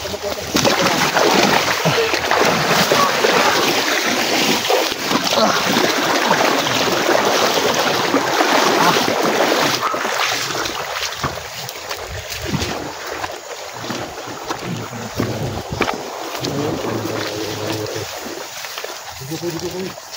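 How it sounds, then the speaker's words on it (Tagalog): A motor boat engine drones loud and steady on a lake in Laguna, mixed with water splashing and wind buffeting the microphone, easing slightly in the second half; voices talk intermittently over it. "Sabi lakas ng boat ba?"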